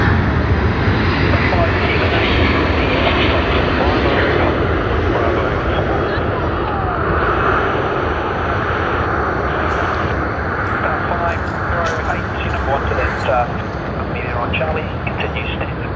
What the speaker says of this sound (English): Vietnam Airlines to Ho Chi Minh City on the A350-900.